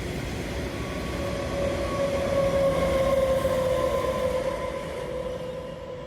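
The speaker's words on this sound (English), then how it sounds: "freight trains thunder through carrying containers, steel, grain, fuel, and goods" A heavy freight train rolls steadily through Minto Station in Sydney close by, a continuous loud rumble with a faint metallic whine riding over it, then slowly fades.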